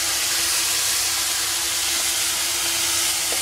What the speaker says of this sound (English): So I will saute this for a few minutes